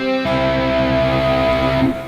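Electric guitar arpeggio played sloppily so the notes blur and ring over one another into a continuous smeared chord, sustained for a couple of seconds before being cut off, heard alone.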